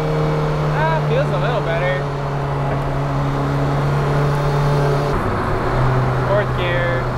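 A 1.6L turbodiesel car drives along in second gear, its steady engine drone and road noise constant throughout, with a brief shift in pitch near the end and a person speaking over it.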